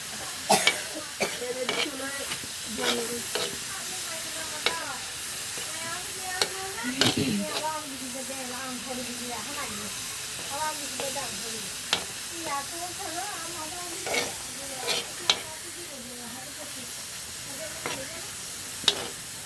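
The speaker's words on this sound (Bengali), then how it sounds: "আমি পেঁয়াজ ভাজি বসিয়ে দিচ্ছি, হলুদ দিয়ে লবণ দিয়ে মিশছি পেঁয়াজটা।" Onions frying in a pan with turmeric and salt, a steady soft sizzle with repeated scraping stir strokes throughout, close and moderately loud, no talking.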